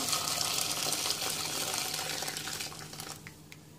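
Hot water pours steadily into a pot of soup with chickpeas, garlic and onion, a continuous gushing splash that fades slightly toward the end.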